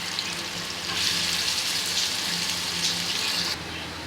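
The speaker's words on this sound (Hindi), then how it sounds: "ये है हमारी प्याज ली जाएगी, इसको हमें ब्राउन करना है," Onions fry in hot oil for Sindhi biryani, hissing in a dense, continuous sizzle that swells louder for a few seconds in the middle and then settles.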